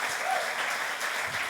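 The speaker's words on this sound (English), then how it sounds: "it is worthy of applause" Audience applause at a global inclusive growth summit, a dense, even wash of clapping heard faintly from a distance, steady for a second and a half.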